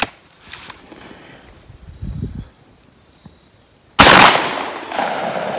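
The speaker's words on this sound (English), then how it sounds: "I'm going to try to pop Josh over there in the face with a 16 gauge slug" A 16 gauge shotgun fires a single slug: one sharp, loud blast that cracks out of a mostly quiet outdoor stretch and leaves a brief rumbling tail.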